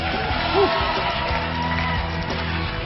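A concert audience at a televised singing competition cheers, whoops and shouts after a performance, a loud dense crowd roar holding steady throughout.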